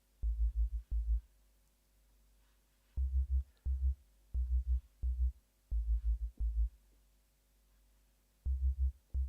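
A pure sub-bass track for a liquid drum and bass mix, stripped to its fundamental with no mids or highs, thudding in short groups of deep pulses separated by gaps, with no other instruments and no talking.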